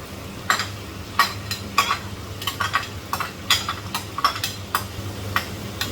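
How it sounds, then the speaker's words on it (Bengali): Chopped onion frying in oil in a pan, a soft steady sizzle broken by regular sharp clinks and scrapes of a spatula stirring, close and without talk. "তেলের মধ্যে দিয়ে দিব পেঁয়াজ কুচি।"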